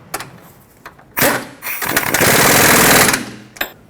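An impact wrench snugs a bolt on the front strut of a 2006-2010 Hyundai Sonata, with a short burst followed by a longer loud rattling run of about a second and a half and a quick final tap, close up.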